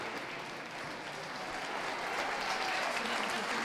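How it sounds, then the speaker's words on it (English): Steady audience applause ringside at a dog show, a dense continuous wash of clapping that holds and swells slightly, heard at a middle distance with no voices over it. "A round of applause, please,"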